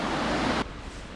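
Water pours steadily over an old stone weir in a valley, a dense broadband rush that cuts abruptly halfway through to a quieter, thinner flow.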